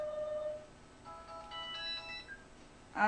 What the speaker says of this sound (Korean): 우리 집 전화기가 또 고장났다.